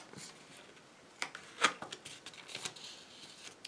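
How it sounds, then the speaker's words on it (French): Paper folded and creased by hand while making a paper tea-bag holder, soft rustles and crinkles with one sharper crease near the middle, close and quiet. "Je rabats l'excédent. Je plie."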